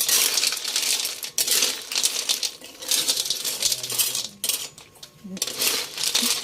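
Crackling, popping food frying in a pan, a steady hiss with scattered sharp pops, close up; a voice speaks faintly in the background.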